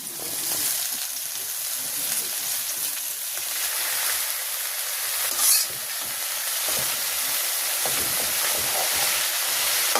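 Pumpkin greens go into a pan of potatoes frying in oil in a village kitchen, setting off a loud steady sizzle and hiss that carries on for about ten seconds with light stirring scrapes.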